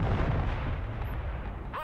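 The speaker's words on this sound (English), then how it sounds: "My artillery." Artillery fire rumbles in the strategy video game Broken Arrow, a dense, continuous roll of low booms that stays loud and steady for the whole moment, with no voices over it.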